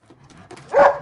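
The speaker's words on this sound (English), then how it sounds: "You let the dog in" A pet dog at a home gathering lets out a single short, fairly loud bark near the end, after a stretch of quiet background.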